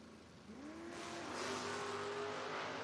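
A drag racing car, either a Mustang or a Demon, revs and accelerates hard at a footbrake drag meet, its engine note rising loud and close over about three seconds.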